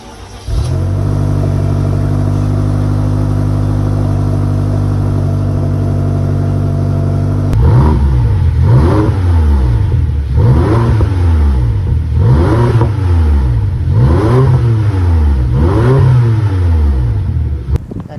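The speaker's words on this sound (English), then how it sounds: "we have this very aggressive diffuser with quad exhaust, and believe me, for a family SUV, it sounded quite good" A BMW X5M with the S63 4.4-litre twin-turbo V8 and stock quad exhaust idles with a deep steady burble, then is revved repeatedly in a series of rising and falling blips, loud and close.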